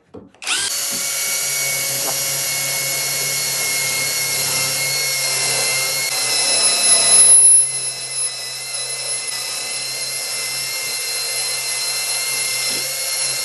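A Sturmax CDM3212BL brushless cordless drill with a 6 mm bit bores into old metal, a loud, steady whine held for over ten seconds that dips briefly as the bit bites in.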